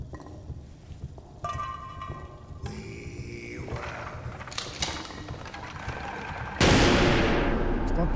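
Gunfire in the survival horror game Amnesia: The Bunker, a series of sharp cracks and mechanical bursts that grow louder and denser toward the end, over a steady background hum.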